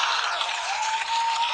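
Brief burst of dense, even clapping from a podcast audience, a continuous hiss-like wash of hands held at steady loudness.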